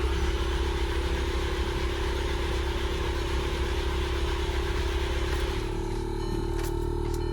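A car engine with a cracked oil pan runs steadily, close and loud, with a continuous low rumble, and its tone shifts partway through as the revs settle into a rougher clatter.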